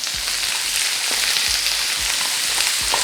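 Onion going into garlic sizzling in a frying pan, a loud steady crackling fry with soft periodic scraping strokes of stirring, no voices.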